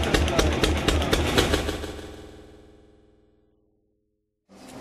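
A 6 horsepower Lister stationary engine running at a gasification and biochar workshop, loud and close with a fast, steady thumping beat that winds down to silence. The engine then cuts back in at the end.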